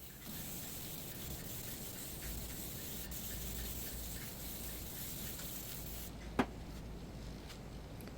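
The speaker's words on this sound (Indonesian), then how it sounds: "Untuk penyemprotannya sama saja seperti tadi, kita semprot tipis terlebih dahulu secara merata." Diton premium aerosol spray paint hissing steadily onto a motorbike body panel in thin, even coats, a continuous close spray running for about six seconds before cutting off, followed by a single sharp knock.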